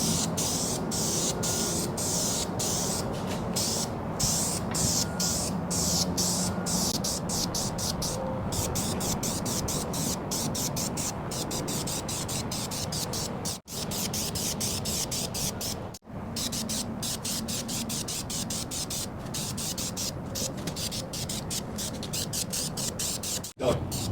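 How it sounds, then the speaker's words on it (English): Spray can hissing steadily as engine parts for a rebuilt inline six from a 1948 Chevy are painted black: harmonic balancer, fan pulley, generator, starter and distributor bodies. Continuous close hiss, broken by two brief pauses, with no talk. "And we're going to go ahead and paint it."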